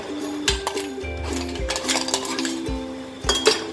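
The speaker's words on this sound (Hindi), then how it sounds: "ये डल गई आइस क्यूब्स" Ice cubes clatter into a glass for a chilled jaljeera summer drink, a few sharp clinks near and fairly loud, with bursts at the start, middle and end.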